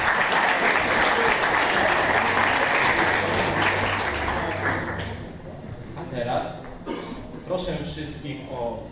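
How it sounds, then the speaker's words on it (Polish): Loud audience applause at a Polish ceremony for Karolina Józefowicz fades out after about five seconds, giving way to scattered claps and a voice speaking over the thinning room. "Jeszcze raz wielkie brawa."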